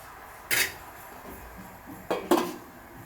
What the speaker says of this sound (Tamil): நல்லா கலந்து விட்டுட்டு வந்துட்டு மூடி வச்சுக்க போகிறோம்